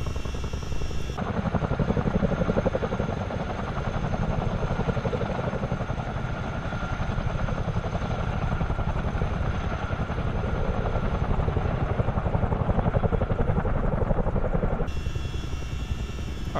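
A Chinook helicopter fights wildfires in Canada in Microsoft Flight Simulator, its rotor drone steady, loud and continuous throughout, with no talking.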